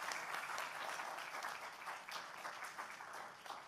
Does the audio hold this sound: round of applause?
yes